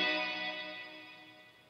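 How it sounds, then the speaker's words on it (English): A guitar note rings through the hall reverb of a Quilter Labs Aviator Cub 50 1x12 combo amp, with the reverb turned all the way up. The long, washy tail decays smoothly over under two seconds, alone and fairly quiet. "It's kind of like a hall reverb almost, which is what I like. It has a very long dwell."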